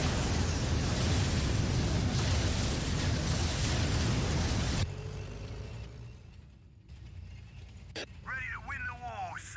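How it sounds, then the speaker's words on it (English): Artillery in Dark Crusade fires as a loud, sustained roaring blast for about five seconds, then cuts off abruptly into quieter battlefield noise with a sharp crack and whooshing effects afterward. "Saw an artillery go off."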